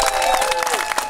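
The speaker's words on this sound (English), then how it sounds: "How about a round of applause for Wayne and the rec department" A small outdoor crowd at a town fishing derby claps in a brief burst of applause, steady and fairly close, lasting about a second.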